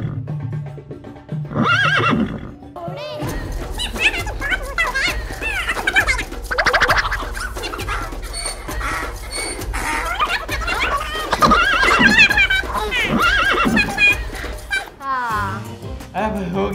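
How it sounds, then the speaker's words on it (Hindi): A horse gives a loud, drawn-out neigh near the start, followed by busy lively sounds with repeated whinny-like bursts and rhythmic knocking. Voices and child-like speech are mixed in, and the sounds may be a person playing horse during a dance. "चलो चलो चल मेरे घोड़े।"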